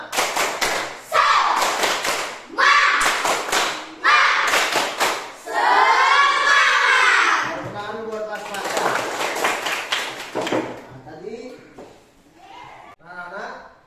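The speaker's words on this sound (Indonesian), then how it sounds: "Silakan anak-anak tepuk semangat dulu lagi sekali" Schoolchildren standing in a classroom perform a rhythmic spirit clap, bursts of loud, close clapping in patterned groups with chanting voices, then a teacher speaking more quietly afterward.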